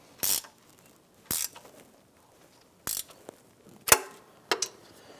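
A ratchet snugs the exhaust manifold bolts on a 1997–2006 Jeep Wrangler, giving five short, sharp clicking bursts at uneven intervals, close and clear against near silence.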